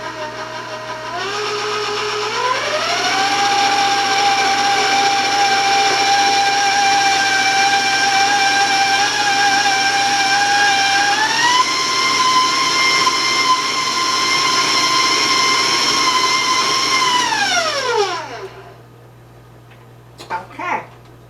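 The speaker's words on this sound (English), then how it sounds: "And now we're just going to mix it till it's combined" Electric stand mixer with a paddle beating chocolate brownie batter, a steady loud motor whine that steps up in speed partway through, runs evenly, then winds down and stops.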